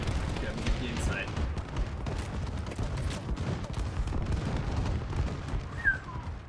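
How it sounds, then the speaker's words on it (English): Muffled explosions and gunfire from an enemy bombing run in Call of Duty Advanced Warfare, with dense rumbling blasts rolling continuously under faint game voices. "Enemy bombing run overhead!"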